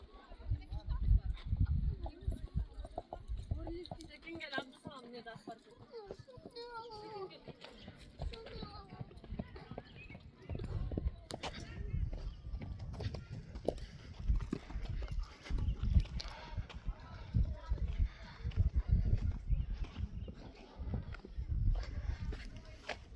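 Horses' hooves clip-clop on the ground at a busy mountain tourist spot, an uneven series of near and mid-distance thuds under steady chatter from people nearby.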